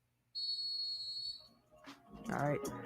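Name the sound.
whistle blown as a sound effect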